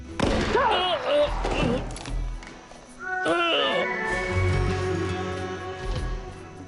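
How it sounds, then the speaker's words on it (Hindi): Bursts of gunfire crack out amid a busy action scene from the animated film Spy x Family Code: White, with shouting voices and thuds mixed between the shots. "वो हम पर गोलियां चला रहे हैं।"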